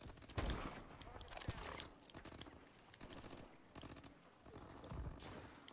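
Rapid gunfire and bursts of shooting in the video game Call of Duty: Advanced Warfare, dense and continuous with sharp cracks throughout, fairly quiet overall.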